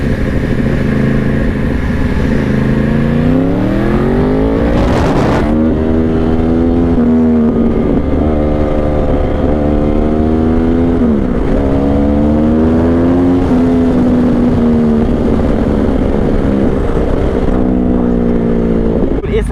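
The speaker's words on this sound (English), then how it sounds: "the bike accelerates, and this is in low power, so the bike's accelerating" An ARC Powersport R1 motorcycle in low power mode accelerates in repeated surges, the engine pitch rising and falling across several pulls, loud and continuous throughout with a sharp burst near the start.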